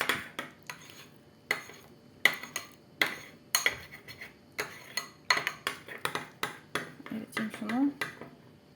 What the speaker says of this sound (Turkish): Böyle karıştırıyoruz.